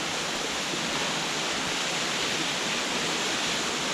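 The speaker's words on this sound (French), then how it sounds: "Jolie cascade." Svartifoss waterfall in Skaftafell, Iceland, falling among basalt columns, gives off a dense, constant roar of rushing water, loud and unbroken throughout with no talk.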